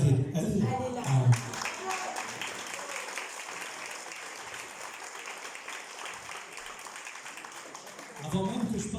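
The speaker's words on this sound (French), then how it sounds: "Avant même que je parle de toi, tu es déjà applaudi" Audience applause for Evna Chéreau at a seniors' meal gathering, steady clapping of a crowd in a hall throughout, with voices speaking briefly at the start and end.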